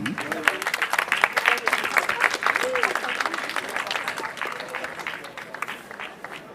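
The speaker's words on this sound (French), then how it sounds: "Sous vos applaudissements" An audience applauds steadily at a book fair inauguration in Mennecy, a dense patter of many hands clapping, with a voice speaking over it.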